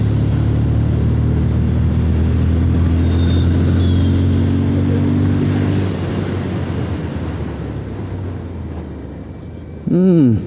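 A TVS Apache RTR 160 2V motorcycle cruises at about 60 with a steady droning engine tone, then the pitch falls away as the rear brake slows it, ending with a brief rising rev.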